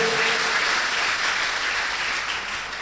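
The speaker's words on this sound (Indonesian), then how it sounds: "Yang setuju tepuk tangan yang meriah bagi Tuhan." Church congregation applause during a sermon, a full, even wash of clapping that holds steadily throughout and fades slightly toward the end.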